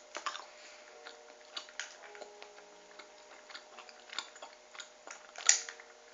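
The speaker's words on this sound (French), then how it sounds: "Je m'excuse si vous m'entendez mâcher comme un gros porc" Someone chews sticky food with the mouth open, making wet clicks and smacks close to the microphone, repeated at an irregular pace with no talking.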